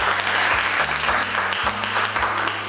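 An audience applauds during an automotive engineering teaching assessment, a dense, steady patter of clapping for a few seconds with a low hum beneath.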